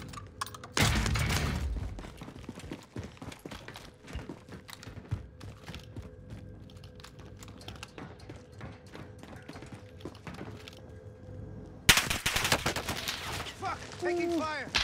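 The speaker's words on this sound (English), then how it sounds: "taking fire!" Automatic gunfire in a Warzone match: dense rapid bursts and sharp shots crackle through the clip, with two loud explosive blasts near the start and end, under occasional voice chatter.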